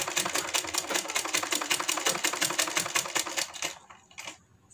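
A sewing machine stitches along a kurti neckline in a fast, regular mechanical clatter for about four seconds, then stops and leaves a few faint clicks and near silence.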